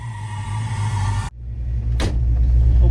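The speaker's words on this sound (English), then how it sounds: "we're going to take the car out, we're just going to shake it down" Race car on a shakedown with its new engine, a loud close rumbling drone that cuts out abruptly, then resumes with a brief sharp noise burst as the steady rumble builds again.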